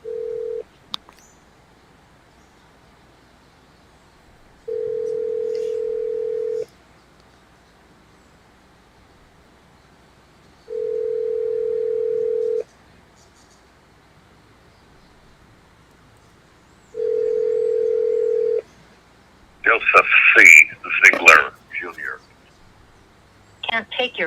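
A phone call going out, with a short burst of dialing followed by three long, evenly spaced ringback tones separated by silence, then a voice answers at the end.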